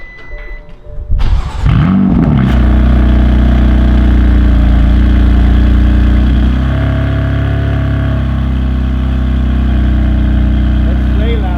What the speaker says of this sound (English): A cold start video right here.